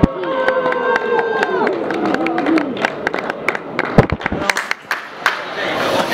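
Crowd at a BMI Atlanta Legends award presentation claps and cheers, sharp scattered claps mixing with hubbub while a voice and background music carry on.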